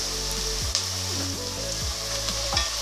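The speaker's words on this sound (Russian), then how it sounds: "Теперь обжарим вместе с сосисками." Sliced vegetables and sausages fry together in a pan for stewed cabbage, a steady close crackling sizzle broken by several clanking stirring strokes.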